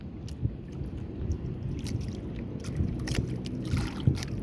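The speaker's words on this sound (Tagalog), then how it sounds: "Dito kami sa laot." A boat sits out at sea at night, with low churning water and engine rumble, splashes and gurgles close by, and no talk.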